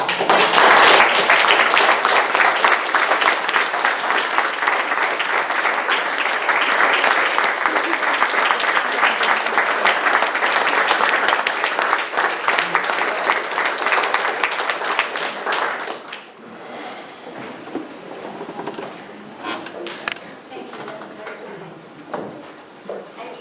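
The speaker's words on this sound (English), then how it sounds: "give her a round of applause" An audience at a talk on the Hawaii physician shortage gives sustained, dense applause that fills the room for about sixteen seconds. It then thins to scattered claps and a few voices.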